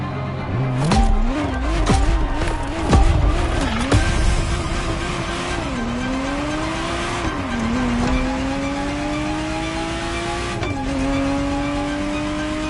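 Ferrari Testarossa in The Crew racing game, its engine revving loudly and continuously with pitch climbing through gear shifts, brief tire squeals and skids early on, no talking.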